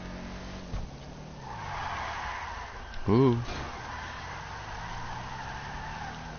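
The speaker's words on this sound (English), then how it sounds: "Let's see if I can drift." In GTA, a Tulip car's tires squeal in a short, sharp skid midway, over a steady engine hum. Someone talks briefly before the skid.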